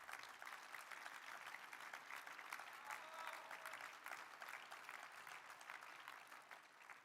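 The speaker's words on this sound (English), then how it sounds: "Applause." Sustained audience applause fills a conference hall at CPAC Hungary during a presidential speech, an even, moderately distant wash of clapping lasting around seven seconds with no speech over it.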